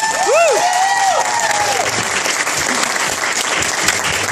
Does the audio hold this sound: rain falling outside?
no